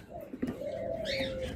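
Opaline pet birds, eight to ten months old, give a short soft coo with a faint chirp near the end, close by and quiet.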